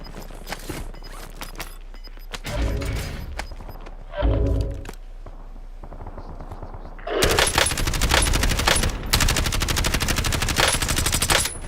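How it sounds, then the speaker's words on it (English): Machine gun fire in Black Ops 6 Warzone on Verdansk, arriving in sharp bursts that turn into a long, heavy, sustained barrage near the end, with footsteps and clinking gear in between. "Taking effective fire."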